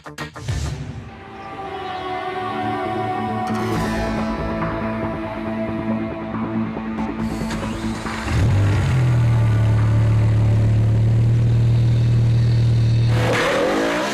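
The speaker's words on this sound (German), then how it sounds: "Patrick gibt dem großen Bayern auf dem Look Driving Center ordentlich die Sporen" A BMW M6 with its high-revving 507 hp V10 is pushed hard around a driving-center test track, the engine screaming loud and close through sustained acceleration, then dropping to a steady, heavy drone at lower revs.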